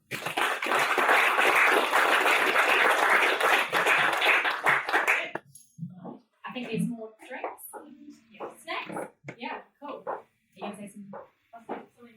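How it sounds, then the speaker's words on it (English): An audience at a tech-for-good community event gives the panel a dense round of applause for about five seconds, loud and sustained, then it breaks off and a speaker talks in a quiet room. "join me in a round of applause for the panel"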